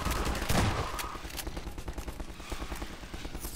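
Automated turret gunfire in Half-Life 2: rapid, crackling bursts of shots, loudest at the start and then continuing as a steady rattling stream.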